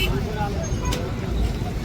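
A busy, small bus stand in Mohol carries a loud, continuous wash of traffic noise and bus engines, mixed with general crowd babble.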